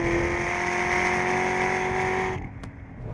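A Chevrolet Corvette ZR1 accelerates hard uphill on a race track, its engine a loud, steady high-revving roar heard from inside the car that drops suddenly as the throttle lifts near the end.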